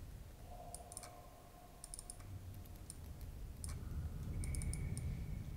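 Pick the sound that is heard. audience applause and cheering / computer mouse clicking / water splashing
computer mouse clicking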